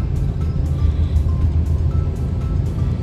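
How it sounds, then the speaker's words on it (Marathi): Inside a moving vehicle overtaking a state transport ST bus from the Sawantwadi depot on a Konkan road in Ratnagiri, a loud steady engine and road rumble with faint rattles, no talking. "सावंतवाडी आगाराची ST आहे ही. चला आता आपण हिला ओव्हरटेक करू."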